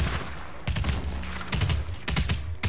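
Rapid gunfire from headshots in the video game Realm Royale, a loud, dense fusillade of overlapping shots across the whole moment with several sharper bursts, no one talking.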